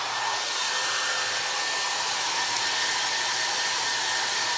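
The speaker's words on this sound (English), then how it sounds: "I'm gonna dry it again. This is the only thing I hate is the drying." A hair dryer blows continuously and steadily at close range, drying paint on handmade faux craft apples, a loud unbroken whoosh with no voices.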